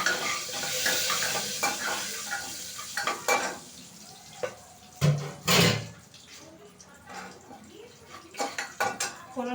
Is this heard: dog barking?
no